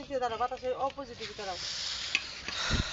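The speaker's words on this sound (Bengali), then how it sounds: "আব্বু হচ্ছে ড্যাগ ভরে পিঠালি সেটা হচ্ছে নাড়া দিচ্ছে" Pithali being stirred in a large pot during traditional Jamalpur home cooking, with steady scraping and bubbling sizzle that rises toward the end; voices talk briefly at the start.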